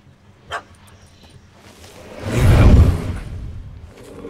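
A dog in Witcher 3: Hearts of Stone gives a single sharp yelp, then a longer, louder rushing burst of barking and whimpering swells up in the middle before fading.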